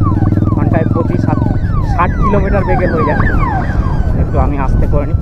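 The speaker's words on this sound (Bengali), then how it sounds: "সামনে একটা অ্যাম্বুলেন্স আসছে" An ambulance siren approaches on a road as a cyclist rides along, its wailing sweeps rising and falling loudly while someone talks over it amid steady road and wind noise.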